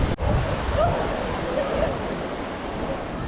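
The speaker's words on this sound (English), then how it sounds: "there's this river that flows by" A river flows past the village of Ourika, Morocco, a constant broadband rush of water with a sharp click at the start and faint voices in the background.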